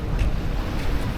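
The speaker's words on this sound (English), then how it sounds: "Those are some big waves out there, right?" Big ocean waves surge and roll near General Luna and Cloud 9, a steady broadband wash of surf with strong wind buffeting the microphone throughout.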